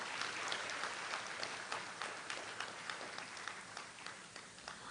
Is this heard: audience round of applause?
yes